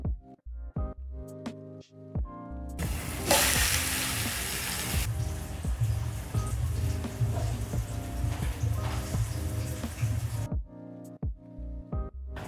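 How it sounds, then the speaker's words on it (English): A seasoned tilapia fillet sizzles in a pan just after being flipped: a loud burst of hissing rises, then settles into a steady crackling fry that stops abruptly near the end, with no talking. "So now I'm going to flip my fish."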